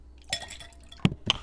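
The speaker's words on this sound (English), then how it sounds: "The ice cubes went in anyway." Ice cubes clink into a metal bowl of water while a strawberry fluff dessert is being prepared, a few sharp bright clinks and knocks in quick succession, close and alone.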